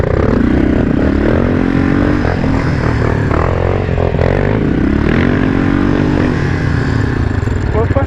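Four-wheeler ATV engine revving and labouring up a hill, a steady close drone with rising and falling pitch sweeps throughout, mixed with wind and some talk.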